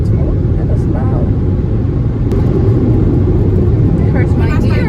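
Automatic car wash machinery runs over a car, a loud, continuous rumbling roar that fills the space without letup.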